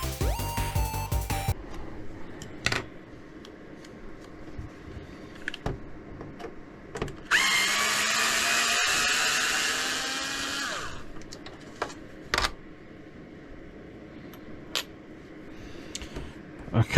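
A power screwdriver whirs steadily for about four seconds while backing screws out of an Xbox Crystal console, with scattered clicks and handling taps before and after.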